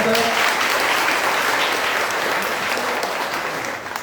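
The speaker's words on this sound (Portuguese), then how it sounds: "Vamos dar uma salva de palmas para Fernanda." A church congregation at Sunday Mass applauds a first-time visitor, the dense clapping filling the room at full strength and tapering slightly toward the end.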